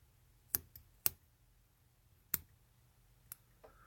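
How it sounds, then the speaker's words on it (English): Scissors snip excess thread during fly tying, giving a few sharp, isolated clicks spaced irregularly over near silence, close and fairly quiet. "I'm going to come in with my scissors"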